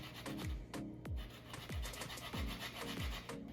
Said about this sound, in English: we're gonna zest 1 orange.